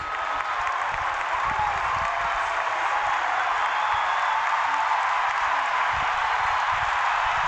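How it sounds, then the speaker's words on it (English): Stadium crowd at an Argentina vs Chile Copa America 2024 football match applauding as Lautaro Martinez and Angel Di Maria come on, a steady broad wash of distant clapping and crowd noise for the whole stretch. "That applause is to welcome Lautaro Martinez and Angel Di Maria."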